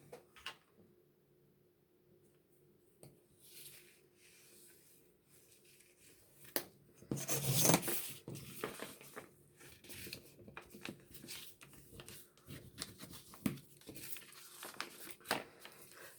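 Paper is folded by hand into junk journal pockets, giving close, quiet, intermittent crinkles, rustles and creasing swipes that swell into a louder burst of crumpling partway through.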